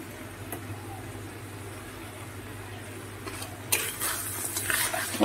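Spicy crab malai curry being stirred in a pan, a quiet low hum that gives way to louder scraping and clattering stirs near the end.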